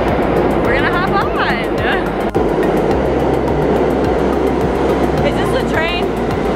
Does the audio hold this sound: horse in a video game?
no